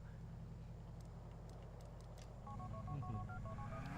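In the video game GTA IV, a phone is dialed with a short run of regular beeping tones over the low rumble of a car engine, faint and close.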